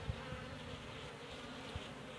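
Apis cerana honey bees buzz at their hive, a dense, continuous hum close by with a few soft knocks, no talk.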